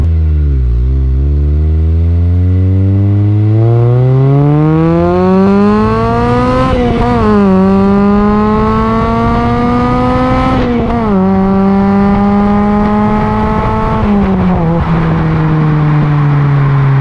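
A 2004 Acura RSX Type S with an Invidia Q300 exhaust pulls hard through the gears, its loud engine note climbing steadily and dipping briefly at each of three upshifts. No one speaks.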